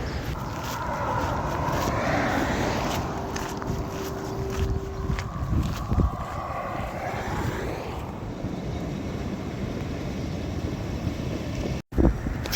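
Traffic on the A12 motorway runs alongside as a steady broad roar with wind buffeting the microphone, occasional louder passes and a long whooshing vehicle pass swelling near the end.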